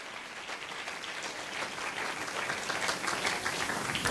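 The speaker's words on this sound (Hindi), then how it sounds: "हालेलुया, ताली बजा के स्तुति करें।" A church congregation claps together in praise of God during a Hindi worship service, a dense, steady wash of many hands that grows slightly louder over four seconds, with no clear talking on top.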